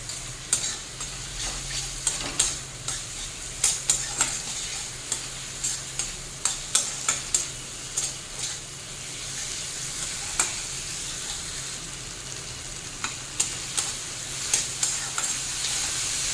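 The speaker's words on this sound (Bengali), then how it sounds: "টমেটোটা দিয়ে ভালোভাবে নাড়তে থাকবো" Chopped tomato is stirred and fried in a pan over low flame: a soft, steady sizzle beneath repeated sharp scrapes and taps of a spatula against the pan, heard close and fairly quiet.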